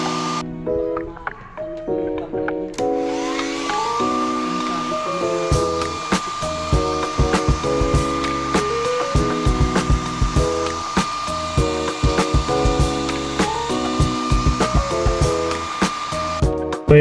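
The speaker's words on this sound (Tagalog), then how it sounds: "Blower ko na to." A heat gun blowing hot air onto a sticker on a car windshield gives a steady whirring whine from a few seconds in, close by, with other tonal sounds layered over it.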